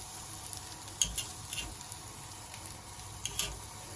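Grilled fish sizzling steadily on a grill as it is flipped, with a few soft clinks and scrapes of turning, close and fairly quiet with no talk.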